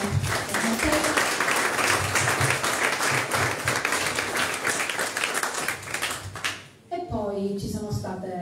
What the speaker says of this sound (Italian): Quindi farei un applauso a tutte le socie storiche.